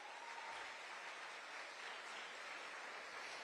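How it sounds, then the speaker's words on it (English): Steady crowd applause for contestants at a youth fair pageant in Berkeley County, even and continuous with no voices, heard from a distance at low level. "Let's give them all a big round of applause."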